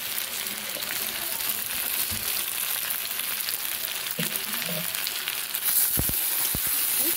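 Vegetables for shukto fry with sugar in a pan, giving a continuous close sizzle broken by a few knocks and scrapes of a spoon stirring.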